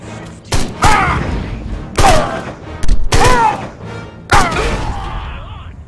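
Several heavy gunshot bursts blast out in the alien shooter game Destroy All Humans!, loud and close, spaced about a second apart, with a whooshing energy tail after the last.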